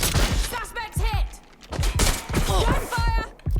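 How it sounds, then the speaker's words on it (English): Gunfire rings out in the video game Watch Dogs Legion as sharp shots burst in clusters among game voices and chatter, loud and close. "Gunfire!"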